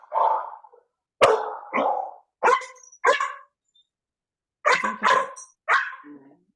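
A dog barks in short bursts, about seven sharp barks in two clusters with brief pauses between, fairly close and loud, no talk.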